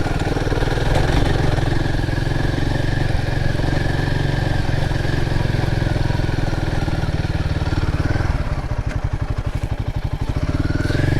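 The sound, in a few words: motorcycle riding down a green lane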